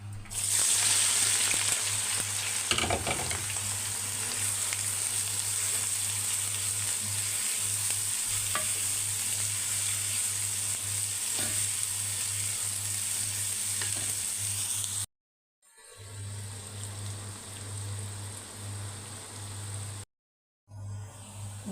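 Onions sizzle and fry steadily in a pan while being stirred, a close, continuous crackle with scraping stir strokes, cut by two brief silent gaps near the end.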